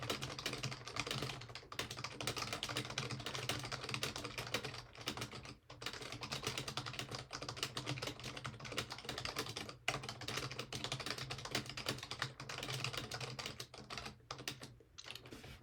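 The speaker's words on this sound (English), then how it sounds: "you can watch me because I like to show off" Rapid, continuous typing on a computer keyboard, a dense stream of fast key clicks lasting about fifteen seconds with only brief pauses, steady and close, with no voices.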